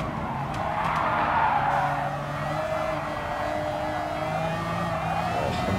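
A race car in Gran Turismo Sport skids and spins out at the Red Bull Ring, giving a continuous loud tire squeal that rises, then wavers, over a steady engine drone.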